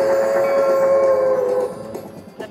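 Train sound effect from the Midnight Express bonus feature on a Vegas casino slot machine, a loud sustained whistle-like tone with rumbling rail clatter beneath, fading after about a second and a half amid casino noise.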